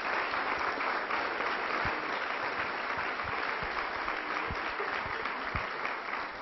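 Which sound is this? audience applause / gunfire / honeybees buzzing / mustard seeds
audience applause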